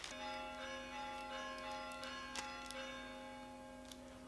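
Sustained church bell tones ring out and slowly fade, steady resonant hum with faint overtones, no talking.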